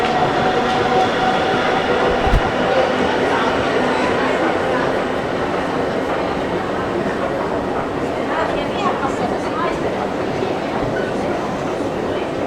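Train noise at a station, a steady rumbling roar with faint clatter running throughout, while people talk nearby.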